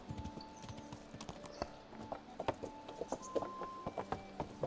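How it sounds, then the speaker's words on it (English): Horse hooves clip-clop in a steady walking rhythm in the medieval video game Kingdom Come: Deliverance, close and fairly quiet, with a faint tonal background hum and no talking. "This is a new horse."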